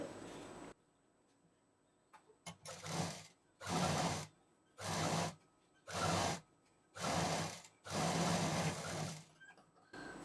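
Sewing machine stitching the main fabric piece and its lining together for a potli bag, running in six steady bursts of about a second each with short pauses between, close and fairly loud, no talking.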